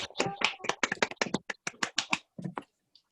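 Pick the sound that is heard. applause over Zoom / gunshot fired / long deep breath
applause over Zoom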